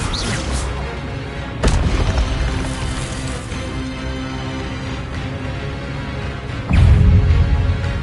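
A fiery spell cast in the Hogwarts Legacy wizarding game, heavy whooshing booms bursting out twice, with a roaring flame rush swelling near the end over a steady ambient hum.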